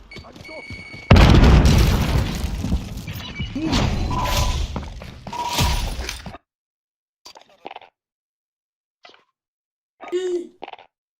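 A grenade blast in Call of Duty Warzone Season 4 booms loudly and rumbles for several seconds before cutting to near silence broken by short faint in-game sounds.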